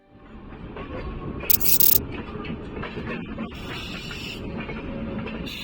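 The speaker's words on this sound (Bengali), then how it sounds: "আমাদের ট্রেন ঢুকছে আম্বালা জাংশন" A passenger train pulls into Ambala Junction before dawn, a steady low rumble of rolling carriages with a brief burst of sharp high-pitched hiss or squeal partway through, all fairly distant and even.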